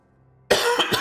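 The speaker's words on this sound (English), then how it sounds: "Lingering cough." A single sharp cough bursts out abruptly after a moment of near silence, close and loud, followed by a couple of rougher hacking pulses.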